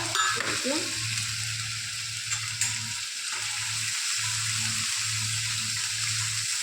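Ginger garlic paste frying with onion in a pan for a prawn malai curry: a steady hiss and sizzle throughout, with a low recurring hum and occasional stirring clatter.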